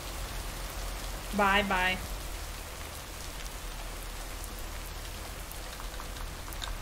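Steady rain falls in the video game Lake, an even hiss of drops running throughout; a voice briefly speaks a short farewell near the start.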